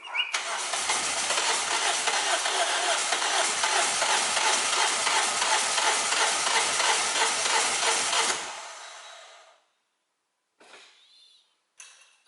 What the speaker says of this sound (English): we were just turning the engine over just to get the oil where it needs to be